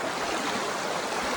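A rushing mountain stream on Afognak Island, Alaska, swollen with runoff, roars in a continuous broadband wash with no talk.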